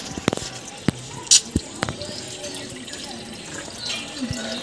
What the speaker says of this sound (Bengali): এই এখন জল টানছি এখান থেকে।